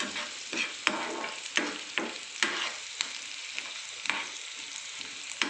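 Onion frying in a pan while being stirred, a steady close sizzle broken by regular sharp spatula scrapes and taps against the pan roughly every half second, with no voices.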